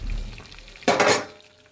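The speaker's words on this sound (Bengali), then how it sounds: "এবার আমরা আলুগুলো আস্তে আস্তে ঢেলে দেব।" Potatoes tipped slowly into oil-fried masala in a pan set off a sudden loud burst of hissing sizzle that fades within a moment or two, following a quieter low rumble.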